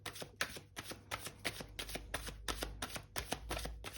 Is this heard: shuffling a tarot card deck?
yes